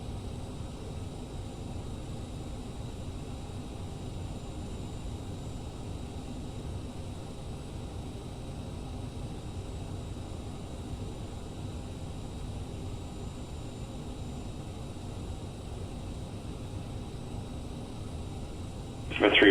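A Cessna's engine drones in Microsoft Flight Simulator 2020 on a flight out of Phoenix, a steady low hum that continues unchanged throughout, with a voice speaking over it.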